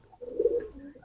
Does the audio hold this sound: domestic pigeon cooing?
yes